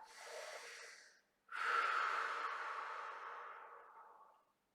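Slow, deep breathing during a beginner mat Pilates relaxation, two soft airy breaths close to the microphone, a short one followed after a brief pause by a longer, steady exhale that fades out.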